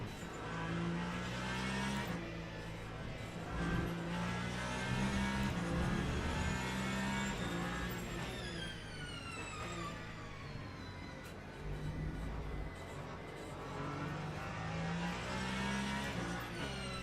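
A hybrid race car in the Le Mans Ultimate sim racing game, running at Spa, howls through gear changes with rising and falling engine pitch and an electric whine, loud and continuous with no voices.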